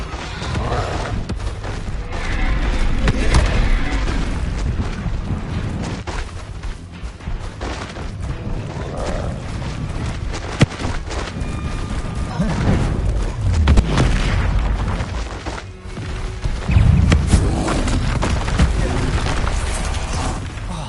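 Bombarda blasting spells in the video game Hogwarts Legacy explode as a string of deep booms and bursts over a dense game soundscape, several loud impacts spread across the stretch, with a voice talking over them.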